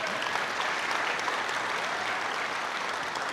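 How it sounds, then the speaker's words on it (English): Steady applause from a live event audience, dense clapping that holds at an even level throughout without letting up. "one more round of applause"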